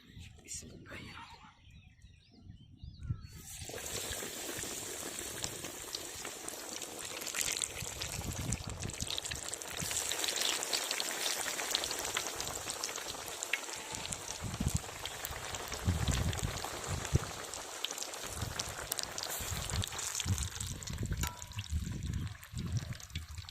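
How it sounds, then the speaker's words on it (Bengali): Egg and aubergine chops fry in plenty of hot oil, a steady close sizzle and crackle with faint voices that carries on after a short quiet start. "তেল গরম হয়ে গেছে। এখন এটা ভেজে নেব।"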